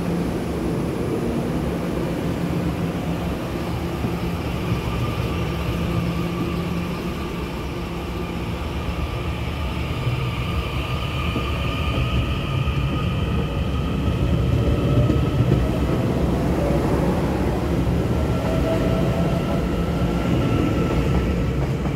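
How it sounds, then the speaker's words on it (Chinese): A Puyuma Express TEMU2000 tilting train, set TEMU2013 and TEMU2014, pulls out of Taipei station with a steady, loud rumble and a low electric motor whine that rises slightly as it departs. No voices are heard. "普悠玛终于在台北站驶离了"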